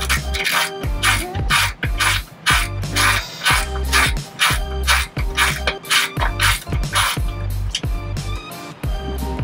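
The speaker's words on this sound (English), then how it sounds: "we're gonna take out these bumper bolts on the inside of the bumper" A 10 mm socket ratchet backing out bumper bolts from inside the bumper of a 2017 Lincoln Continental, rapid repeated clicking bursts close up with short pauses between strokes.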